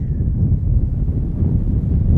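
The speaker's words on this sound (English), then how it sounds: "It's quite windy out here" Low, blustery wind buffets the microphone throughout at an RV boondocking spot, a steady rumbling roar with no voices.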